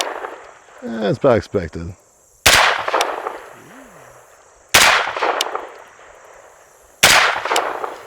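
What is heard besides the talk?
gunshots fired at a target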